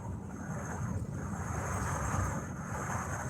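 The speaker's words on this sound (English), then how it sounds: "It's probably pretty windy out here too" Steady low rumble of wind buffeting from outside a moving truck in cold northern country, a continuous broadband roar with no voices.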